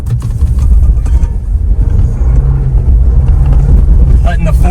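A Toyota 4Runner's 4-cylinder engine pulls through sand on Nitto tires, a loud, steady engine drone with rumbling road noise heard from inside the cabin, with voices talking over it.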